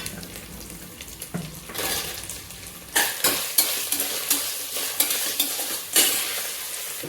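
Onions sizzling in a hot pan while a utensil scrapes and stirs in repeated strokes, close and fairly loud.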